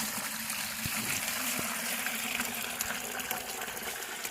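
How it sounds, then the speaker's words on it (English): Maple sap pours steadily into a 5-gallon bucket, a soft continuous splashing gush with a few faint knocks, quiet and close. "take the sap, and I'm going to pour it into this 5-gallon bucket"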